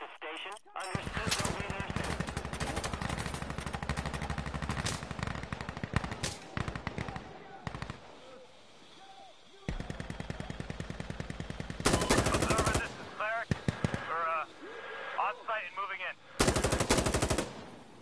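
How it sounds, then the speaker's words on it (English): Minigun fire in the video game Insurge, long loud continuous bursts of rapid gunfire broken by short pauses, with radio-style voices talking between and over the shooting. "Requesting minigun support at this target."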